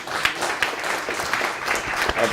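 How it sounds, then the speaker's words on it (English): An audience claps steadily in a dense, continuous wash of applause at a memorial poetry reading. "applaud yourself, applaud yourself."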